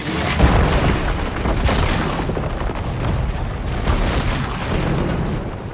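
A deep rumbling boom roars continuously as an ancient bridge trap is set off in a Dungeons & Dragons game, loud and sustained with no voices over it.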